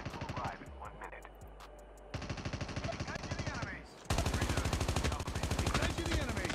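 Rapid automatic gunfire crackles in a COD Mobile Battle Royale match, bursts of loud, evenly spaced shots in several runs broken by short pauses, with a louder, denser volley toward the end.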